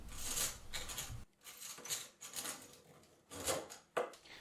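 Bit boring by hand into a wooden chisel handle, making faint, irregular scraping and rasping strokes with brief pauses between them.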